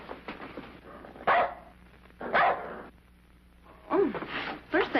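A dog barks in several loud, close bursts, with someone talking between and around the barks.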